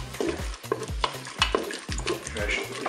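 Onions and veal frying in a Cookeo multicooker, a steady close sizzle broken by repeated scraping strokes of a stirring utensil in a regular rhythm.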